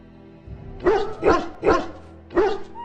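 Dog in the video game Dragon Age: Origins barking four times in a rough rhythm, sharp and fairly close, with a low growl before the first bark.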